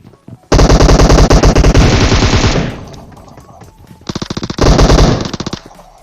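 Automatic gunfire in the mobile battle-royale game PUBG Mobile: a loud, close burst of rapid shots lasting about two seconds, then a pause and a second sustained burst, with no voices over it.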